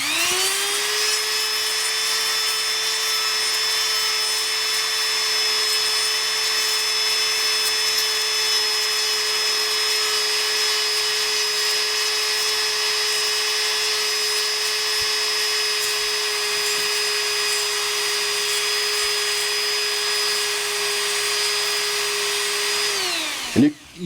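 A foot-controlled drill cutting a slot in a preform pipe stem whines at a steady, high pitch for the whole stretch, holding one even speed before cutting off abruptly at the end.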